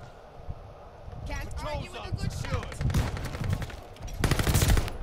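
Marco 5 rifle fire in Call of Duty Vanguard, coming as rapid bursts of shots that grow louder toward the end, mixed with game noise and talk.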